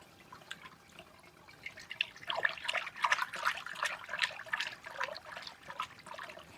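A ground liquid of hot kanthari chilli, garlic and asafoetida is strained, making a faint, steady trickle with scattered drips.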